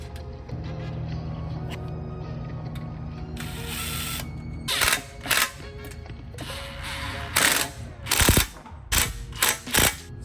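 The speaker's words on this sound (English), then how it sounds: "Go ahead and get it assembled with the nuts and bolts that they included." Metal nuts and bolts clink and ratchet as a license plate bracket is assembled, first a soft mechanical rattle, then a series of sharp, close bursts of clattering in quick succession.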